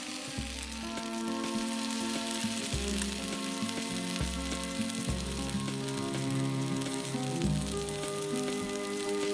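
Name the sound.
mushroom steaks searing in a grill pan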